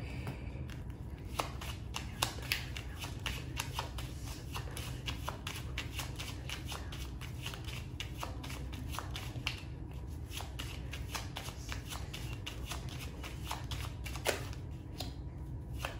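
A deck of 32 cards shuffled by hand for a card reading, with continuous crisp riffling and flicking close by, alone without talk.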